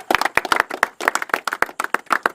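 A small group of people clapping in a quick, uneven patter of sharp hand claps, loud and close, without any talk.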